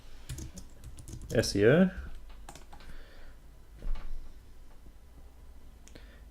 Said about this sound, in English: just go to your plugins, type in WordPress